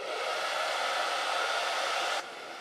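A heat tool drying chalk paste on a wooden gnome door tag gives a steady, loud, close blowing whir that drops abruptly to a slightly softer hum near the end.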